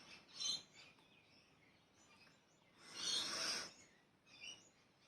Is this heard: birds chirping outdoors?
yes